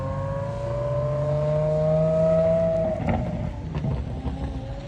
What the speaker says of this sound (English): Oh, listen to the CLK.